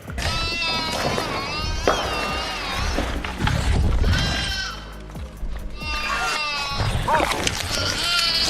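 Repeated wavering goat bleats, several animals calling over one another at close range, with some rustling and background noise between calls.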